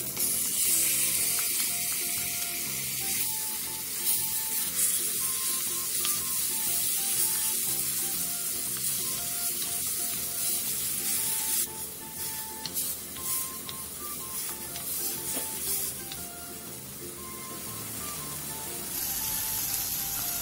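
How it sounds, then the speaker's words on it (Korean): Pork stir-frying in sesame oil in a pot over high heat for red pepper paste stew, a steady close sizzle and crackle throughout with occasional scraping and stirring clatter, no talk. "냄비에 참기름 1을 넣은 뒤 숙성시켜놨던 돼지고기를 넣고 겉면이 살짝 익을"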